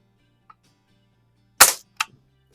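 A lever-action air rifle being cocked and fired: a faint click, then a loud sharp crack followed by a second shorter snap, in an otherwise quiet room with a low hum.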